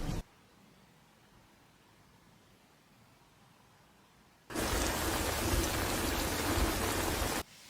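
Steady broadband hiss of rain in the TV series The Pacific, quiet at first, then a sudden loud downpour roars for about three seconds before cutting off.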